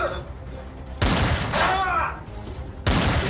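Gunshots ring out in The Backrooms, sharp loud bursts arriving in two or three separate blasts with a whooshing sweep between them.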